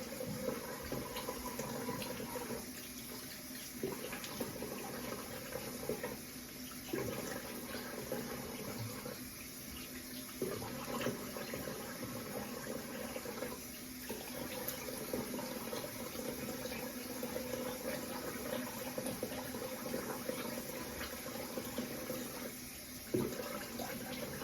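Tap water running steadily into a bathroom sink for rinsing after a wet shave, a continuous close splashing flow with brief changes where hands pass under the stream, no voices.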